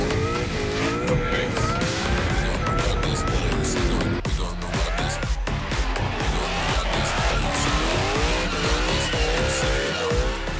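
A supercharged 1UZ Lexus V8-engined car drifts up a steep driveway hill in a tight driveway race, its engine wailing and rising and falling with squealing, skidding tires, loud and close, with faint voices in the background.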